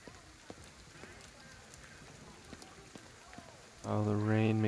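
Steady rain patters across a street in Shibuya in the Ghostwire: Tokyo video game, a soft wash with faint drop ticks, before a loud low hum or voice cuts in near the end.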